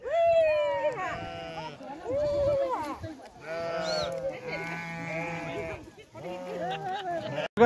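A flock of sheep bleats loudly and close, several overlapping wavering cries following one after another with only brief gaps.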